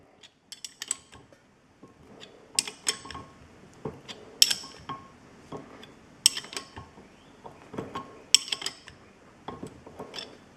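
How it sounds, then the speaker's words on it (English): Hand wrenching on a Ford Model A distributor shaft bushing, done without a press, gives intermittent metallic creaks, ratcheting clicks and scrapes, close and fairly loud, in uneven bursts throughout. "And then you just keep wrenching down."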